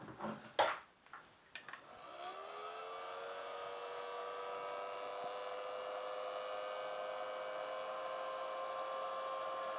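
A heat gun warming a piece of EVA foam, a few handling knocks and clicks at first, then the motor spins up into a steady whining hum that holds to the end.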